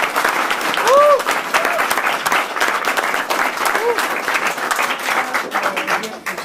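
An audience applauds a musician, a dense burst of clapping that holds steady and loud for several seconds with some cheering on top.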